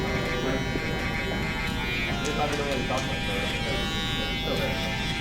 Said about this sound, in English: Sometimes if there's a line, I typically flip the shaver over and I just tap at it to take out that line